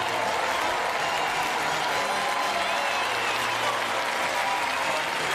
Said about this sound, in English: Appreciation from the crowd for the two teams.